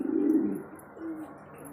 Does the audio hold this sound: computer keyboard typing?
no